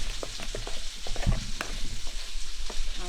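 Potatoes frying in a pan are stirred with a utensil, making repeated scraping strokes over a continuous close sizzle, with no talking.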